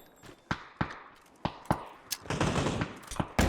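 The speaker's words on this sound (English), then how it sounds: "An excellent, beautiful M4 spray there." Rapid bursts of M4 rifle fire from a PUBG esports match, sharp cracks in quick succession with a dense spray of shots building toward the end, fairly close and loud.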